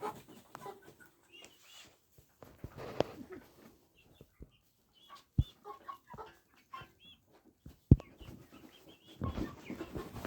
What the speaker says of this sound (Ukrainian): Ось ось ще курочка така гарнюнька